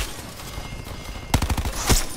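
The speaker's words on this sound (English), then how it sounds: "The random was shooting at the other random." Gunfire in the video game Call of Duty: Black Ops 4, a distant rattle that gives way to a sudden close burst of rapid automatic shots, then another sharp report, with no talk.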